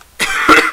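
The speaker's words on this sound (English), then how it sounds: "nice cough" A single short, harsh cough in a Minecraft survival games match, one close burst of raspy breath lasting under a second in otherwise quiet surroundings.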